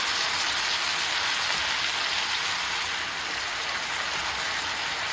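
Boiling water pours into a pot of pork neck bones in a home kitchen, a steady, unbroken rushing hiss that holds at the same level from start to finish, with no talk.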